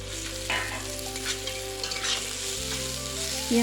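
Crushed garlic and spices sizzle and spit in hot oil while being stirred, a brief loud crackle heard up close with gentle music in the background.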